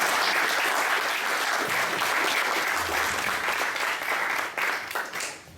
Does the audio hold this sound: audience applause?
yes